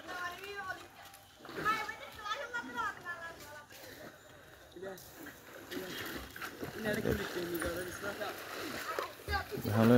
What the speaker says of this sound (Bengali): ভালো লাগতেছে, দেখতেছি সাঁতার কাটা। পুকুরটা কিন্তু অনেক বড়।